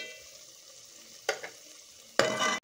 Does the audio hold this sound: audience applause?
no